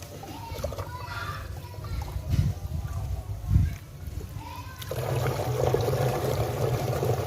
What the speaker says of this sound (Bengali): এখন আমরা 1 লিটার লবণ পানি দেব